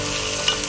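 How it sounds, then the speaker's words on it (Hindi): Garlic and chili frying on a medium flame, a brief dense sizzle with a faint stir, close and steady. "इसको हल्का सा पहले भून लेंगे"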